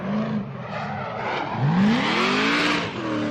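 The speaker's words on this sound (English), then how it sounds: "This supercharged V8 BMW, shredding some parts off the back end of his BMW." A supercharged V8 BMW drift car at a Formula Drift qualifying event in New Jersey, engine roaring loud and close as its tires skid and squeal, with pitch rising and falling through the slide.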